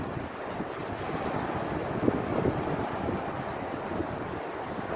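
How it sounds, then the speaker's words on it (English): Steady broadband roar of surf and sea waves on the beach at Happisburgh with wind buffeting the microphone, continuous and fairly loud, no voices. "I think that's just the waves hitting my line"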